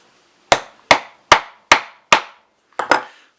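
Wooden pieces pounded into a painted chair leg with a hammer, five sharp evenly spaced strikes followed by a quick double blow, loud and close with no talk.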